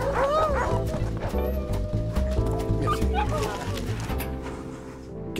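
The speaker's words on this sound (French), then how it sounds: "Le chien." A dog barks and yips repeatedly in a French TV advert for compostable coffee capsules, sharp barks over music and voices.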